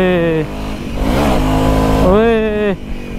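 A motorcycle ridden hard on a steep mountain off-road trail in Mustang, its engine loud and close, revving up and dropping back in rising and falling sweeps while voices shout over it.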